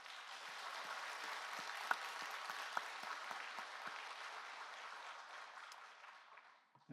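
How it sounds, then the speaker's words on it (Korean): Church congregation applauding together in thanks during a Korean worship service, a steady broad wash of clapping that holds for several seconds and thins out toward the end. "우리 하나님 앞에 우리 감사의 박수를 한번 드립시다."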